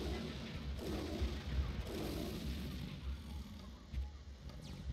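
Gunfire in the Serious Sam 2 video game sounds as a run of dull, booming shots over a constant rumble, fairly faint and muffled through the whole stretch.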